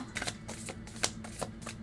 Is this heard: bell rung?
no